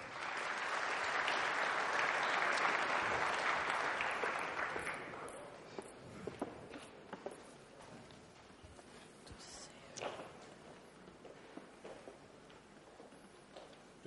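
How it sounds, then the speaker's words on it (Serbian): Loud applause from an audience at a Bosnian football player-of-the-year awards ceremony, broad and sustained for about five seconds before fading into scattered claps and quieter room noise. "Aplauz."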